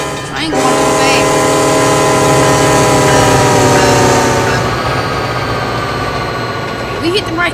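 A fast-running train in the Trainz rail simulation game, with a loud, steady engine rumble and a sustained horn-like tone, fading slightly toward the end.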